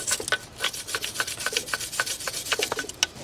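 A brush scrubs the caliper pad-ledge surfaces of a 2016 Audi Q5 front brake clean of brake dust. Short, sharp rasping strokes come close and fairly steadily, with brief pauses between bursts.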